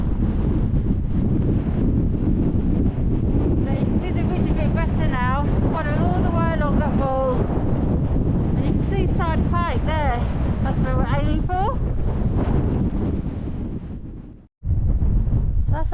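Strong gusting wind batters the microphone on an exposed ridge during a Lake District fell hike to Lingmoor Fell, a loud continuous low roar with a brief drop near the end while someone talks over it.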